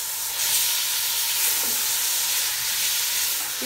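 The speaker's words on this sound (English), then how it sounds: "Add the oil to the pan on a high flame in the onions." Onions fry in hot oil in a pan over a high flame, giving a loud, steady, close sizzle with a dense hiss that holds unbroken throughout, with no voices.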